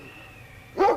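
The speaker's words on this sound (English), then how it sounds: "Him and that lead dog of his." A sled dog barks once, a short sharp bark near the end, over a faint background hum.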